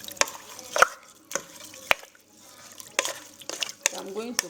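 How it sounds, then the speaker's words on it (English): Agidi jollof with onions being stirred in a pot, heard as scattered sharp clicks and scrapes of a spoon against the pot, spaced irregularly over a soft background. "And I'm stirring it,"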